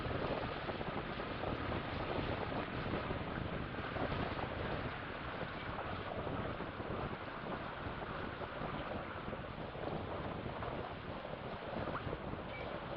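Strong wind buffets the microphone while an RC yacht, a Dragonforce 65, sails on whitecapped water, making a steady, loud roar with water wash mixed in and no talking.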